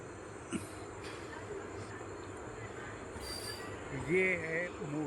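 A special summer train running from Bhuj to Rajkot pulls out of Morbi railway station. A steady rolling rumble of the carriages is topped by a brief wheel squeal near the end, with faint voices in the background.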